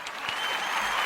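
A short burst of crowd applause on a podcast, a dense, brisk patter of clapping that swells slightly, heard alone without speech.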